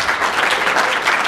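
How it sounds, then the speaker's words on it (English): An audience applauds at a university jazz concert, dense, steady clapping filling the hall, loud and close, with no talk over it. "let's hear one more round of applause for this band."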